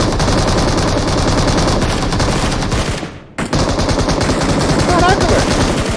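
Rapid machine-gun bursts and gunfire from the mobile battle royale game PUBG Mobile in Metro Royale mode, loud and nearly continuous, with a brief dropout midway and talk faintly underneath.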